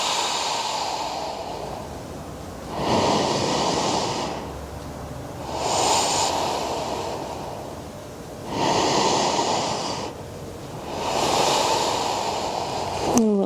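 Slow, deep breathing during yoga practice, with long airy inhales and exhales alternating in a steady rhythm of about four breaths, close and clear with no talking.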